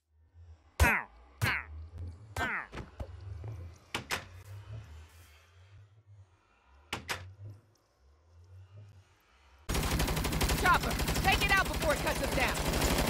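Video game gunfire, several sharp separate shots ringing out with reverberant tails, then a dense burst of rapid automatic fire near the end.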